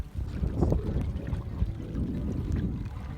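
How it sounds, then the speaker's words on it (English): A canoe is paddled across a lake, with soft watery swishes and gentle splashes from the strokes over faint wind noise, quiet and close. "we're just paddling along"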